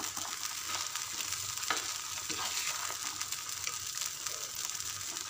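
A ground balloon vine greens paste with tomato, garlic, pepper and cumin sautés in oil over medium heat, giving a steady, dense sizzle and crackle throughout with no voices.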